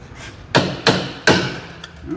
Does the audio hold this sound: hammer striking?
yes